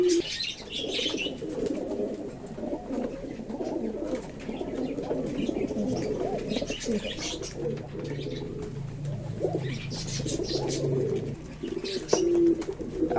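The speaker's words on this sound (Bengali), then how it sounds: "আমার শখের কবুতরগুলোর সাথে কাটানো কিছু মুহূর্ত আপনাদের সাথে শেয়ার করতে উপস্থিত হয়েছি" Pet pigeons coo softly and continuously in a home loft, their low murmuring calls layered with occasional chirps and a few wing flaps nearby.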